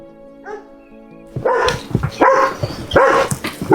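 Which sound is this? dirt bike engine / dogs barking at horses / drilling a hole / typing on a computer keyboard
dogs barking at horses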